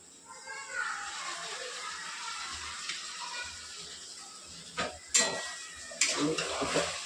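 Vegetable fried rice being stirred with green chilli, red chilli and soy sauces in a home kitchen: a soft broadband sizzle runs throughout, with a few sharp utensil scrapes and clanks against the pan near the end.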